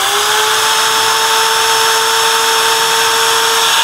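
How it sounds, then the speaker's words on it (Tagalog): A power drill runs off a portable power station, producing a loud, steady high-pitched motor whine with a constant tone throughout, close up and alone. "Power drill. So, power drill naman, ganoon din, same."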